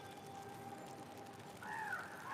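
Faint bird calls over a steady hum of background noise, with a brief clearer chirping call rising near the end.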